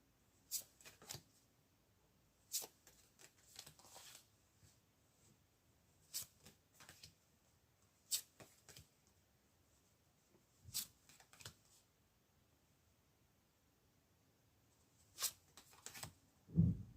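Tarot cards shuffled for a reading, heard as soft, scattered riffles and slaps in short bursts with quiet gaps between them, faint and close, with no talking.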